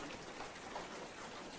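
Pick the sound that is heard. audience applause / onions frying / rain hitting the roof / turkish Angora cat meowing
rain hitting the roof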